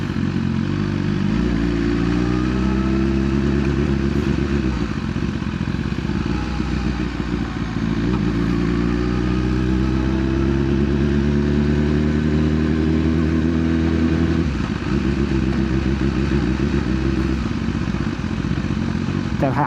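A BMW S1000RR sport motorcycle cruises at night, its engine droning loud and close throughout, the pitch climbing gradually as it accelerates before easing off and building again.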